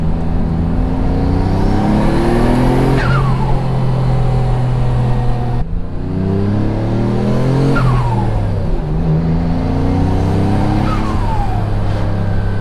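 A Mitsubishi 3000GT VR4 engine with aftermarket CX Racing intercooler piping and a small intercooler air leak revs loud and close, sustained engine drone rising and falling in two long pulls with a whooshing leak hiss on top.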